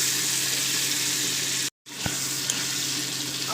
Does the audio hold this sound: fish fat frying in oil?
yes